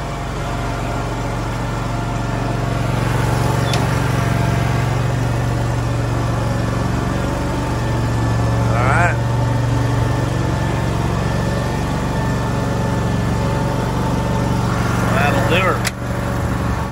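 A riding lawn mower, a John Deere-style 950M or 970R, running nearby with a steady, even engine drone that holds at the same level throughout, with speech faintly over it in places.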